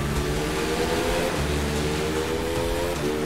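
Motorcycle in The Crew 2 racing game surging forward under acceleration, a steady loud engine drone with layered harmonic tones holding throughout, no talking.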